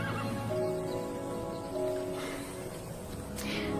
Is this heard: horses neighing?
yes